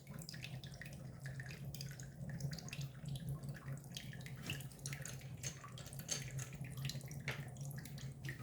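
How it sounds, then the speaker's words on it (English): Water draining and splashing out of a bathroom sink during shaving cleanup, a steady soft gurgling flow with a low hum underneath, close and fairly quiet. "let's empty the water"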